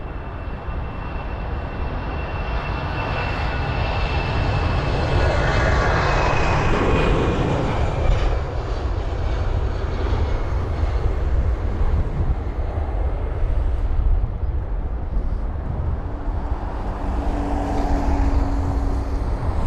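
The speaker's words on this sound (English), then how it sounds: "You've got the Eurowings up next. The A319 off to Hamburg" A Eurowings Airbus A319 jet departing Heathrow for Hamburg roars loudly and continuously, its engine rumble building and then fading slowly as it climbs away.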